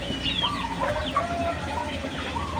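Rhode Island Red laying hens clucking in a coop, a steady stream of overlapping clucks and short calls from several birds close by, with no talk.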